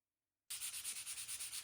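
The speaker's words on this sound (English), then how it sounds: "before the last coat of lacquer, I lightly sand it with 220 sandpaper" Fine 220-grit sandpaper is rubbed by hand over a lacquered wooden console table, starting after a moment of silence and continuing as soft, rhythmic back-and-forth scratching strokes, quiet and close.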